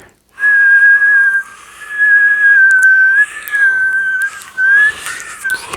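Palate whistle with a lip and teeth warble: a loud, close, sustained whistled tone in several long bursts, wavering and fluttering in pitch, with short breathy gaps between.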